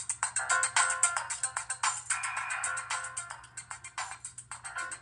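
Ringtone blaring from the loudspeaker of an HTC 7 Surround at full volume: a close, loud, fast-pulsing electronic melody of clipped repeating notes, heard alone without speech.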